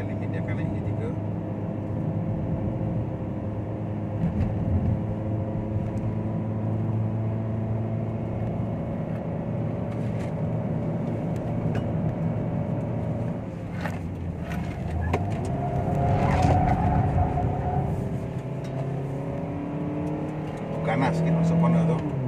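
A 2020 Perodua Bezza climbs the winding road up to Genting, its engine droning steadily and swelling as it revs, with someone talking over it throughout.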